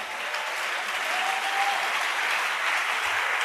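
A church congregation applauds loudly and steadily, a dense wash of clapping filling the whole moment with no break and no voices rising above it.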